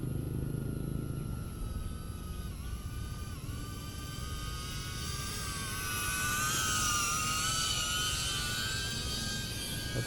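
A DJI Avata FPV drone flying in normal mode in wind gives a continuous high-pitched propeller whine with wavering tones, steady and fairly loud, with no talking.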